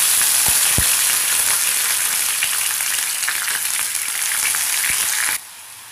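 Onion paste fries in oil with bay leaf and cinnamon, a bright steady hiss with a few sharp spatula taps, close and loud until it drops abruptly near the end.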